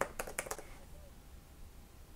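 A computer keyboard is typed on with a quick burst of four or five crisp key clicks near the start, then faint quiet room tone.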